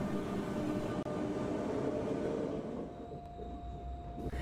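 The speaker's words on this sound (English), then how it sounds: "This isn't one of those super fast bullet trains." Steady rumbling train ride on a regular, non-high-speed commuter line heading out to Versailles through French neighborhoods, a continuous close interior rolling noise that eases slightly toward the end.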